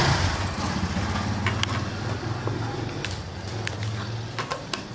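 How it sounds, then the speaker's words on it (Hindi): Steady low rumble of road traffic with engines idling and passing vehicles, plus scattered clicks and taps nearby. "पास में ही रास्ता है इसलिए शोर आ रहा है बहुत गाड़ियों का"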